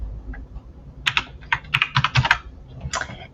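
A close computer keyboard clatters with a quick, uneven burst of keystrokes, a few soft taps leading into a denser run of clicks and then a final pair, with no voices present.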